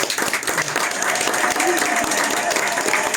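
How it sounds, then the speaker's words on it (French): A crowd at a French-speaking live event gives loud, sustained applause, with dense clapping that holds steady for several seconds and murmured voices mixed in. "Je nous demande de faire un tonnerre d'applaudissements à Australian Jones."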